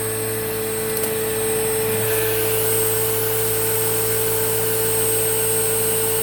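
A Rainbow E2 Black vacuum cleaner runs steadily and loudly throughout an airflow test, its constant motor whine and airflow roar holding level, with a slight shift in tone near the two-second mark.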